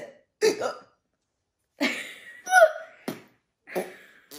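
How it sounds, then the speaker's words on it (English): Five short, sharp hiccups arrive one by one at uneven intervals, each a quick voiced gulp with quiet gaps between. "Man, I got the hiccups."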